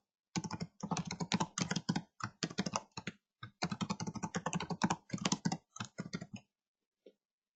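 Keys clatter in rapid bursts of typing on a computer keyboard while a new password is entered, with short pauses between runs of clicks, close and fairly quiet, ending in a single faint tap.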